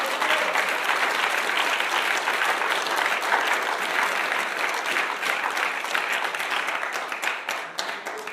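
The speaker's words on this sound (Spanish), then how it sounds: "denle un aplauso fuerte a su presencia" A church congregation applauds in a sustained, crisp wave of many hands clapping, holding strong for several seconds before thinning and tapering off at the end.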